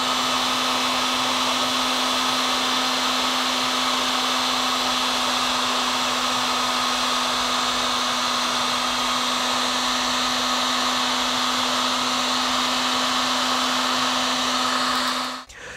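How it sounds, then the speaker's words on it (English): A heat gun blows hot air to shrink heat-shrink tubing over crimped wire splices on a CAN bus network, a loud, steady roaring whine with a constant tone that cuts off abruptly at the end. "head over to our heat gun and recover those down"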